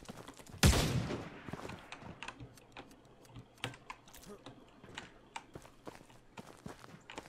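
Gunfire in the video game Anarea Battle Royale: a loud blast near the start, then scattered sharp cracks and shots over a steady patter of keyboard clicks.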